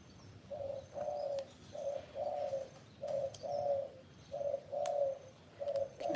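A dove coos in a steady rhythm: about ten soft, mellow notes in evenly spaced pairs, fairly close and clear over a faint background, with no talking.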